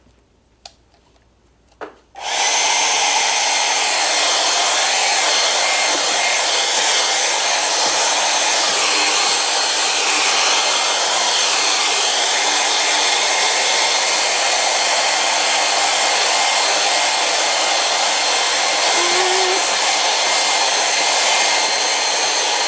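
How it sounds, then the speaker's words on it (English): A hair dryer switches on after a brief pause and blows steadily and loudly, a constant whooshing roar that continues without a break. "Yes, I need the hair dryer."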